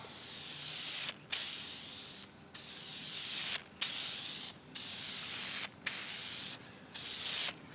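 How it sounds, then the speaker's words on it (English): Duplicolor clear coat sprayed onto a headlight in several hissing bursts of about a second each, with short pauses between, loud and close. "You would never move your hand that fast while spray painting."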